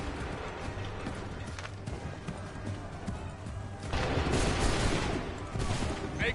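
Musket volley fire in Assassin's Creed 3, a dense continuous crackle of massed gunshots with hoofbeat-like clatter, swelling louder in the second half of the steady battle din.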